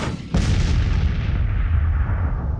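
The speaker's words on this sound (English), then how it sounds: "So our artillery is starting to go off" Artillery fires in Grand Tactician: The Civil War. A sudden loud boom gives way to a long, rolling rumble that fades slowly, heavy and near, with no voices.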